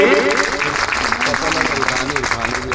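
Enthusiastic applause from an audience at a Saini community unity gathering in India, steady and loud throughout, with a voice speaking over the clapping.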